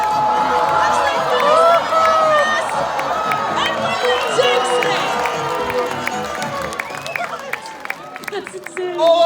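A crowd cheers, whoops and claps at the finish of a lumberjack show race on Grouse Mountain in Vancouver, with an excited announcer and nearby voices talking over the noise.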